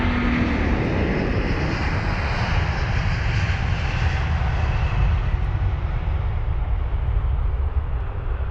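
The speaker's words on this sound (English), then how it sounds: "Now we've got the Airbus A350 1000 of British Airways up next." A British Airways Airbus A350-1000 departs Heathrow, its engines a loud, continuous broadband roar close by that holds steady and begins to fade only slightly as the jet climbs away, with no one talking.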